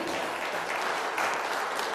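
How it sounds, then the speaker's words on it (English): Audience applause for a guest named Gary, a nuisance-animal trapper, at a small and family business talk; dense, steady clapping from a crowd fills the whole stretch without letup. "give him a round of applause"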